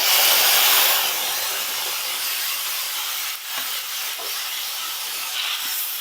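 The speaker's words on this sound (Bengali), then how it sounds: "লো ফ্লেমে আমি টমেটো আর ফোড়ন একটু রান্না করে নিচ্ছি টমেটো ফুটতে শুরু করেছে" Tomato paste with Kashmiri chili powder, turmeric and tempering spices sizzles in a pan on a low flame, a steady close hiss that is loudest at first and then settles, with a few faint clinks.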